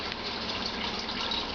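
Distilled water pours steadily from a cup into a cooking pot, a continuous close gush and splash with no talking.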